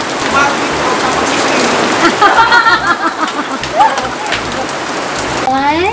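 Heavy rain pours down steadily over an outdoor swimming and barbecue party, a dense hiss of drops on surfaces and water throughout, with voices calling out and chatting over it.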